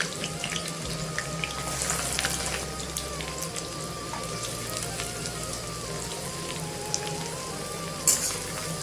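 Garlic and onion fry in hot oil in a kadhai, a dense, steady crackling sizzle like rain, close and continuous with a low hum underneath.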